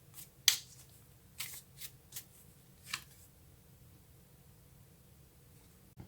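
Tarot cards are shuffled and drawn, giving several short, sharp riffles and slaps spaced over a few seconds, close up and fairly faint against a quiet room, with no talking.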